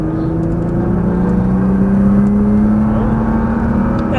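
A Nissan GT-R accelerates hard on a Las Vegas race track, its loud engine droning close and steady with the pitch slowly climbing as it pulls through the gear.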